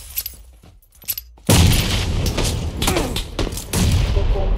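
Grenade blasts and gunfire in the battle game PUBG Lite: a few quiet pops, then a loud boom that gives way to sustained rapid shooting and further thuds, dense and close.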